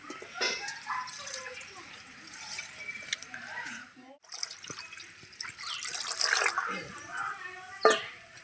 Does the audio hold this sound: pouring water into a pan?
yes